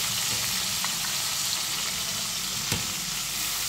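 A potato vegetable bhaji mix is stirred and fried in a pan, giving a dense, continuous sizzle close by with one short scrape of the spoon.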